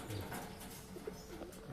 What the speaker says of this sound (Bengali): পায়রা দুটো শখ করুন, কী ধরনের পায়রা একটু দেখুন